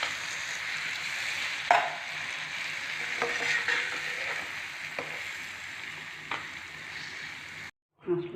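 Ginger and turmeric frying with spices in a pan for an Assamese raw turmeric mango pickle, a steady close sizzle with scattered scraping stirs and a few sharp clinks, cut off by a brief silence near the end.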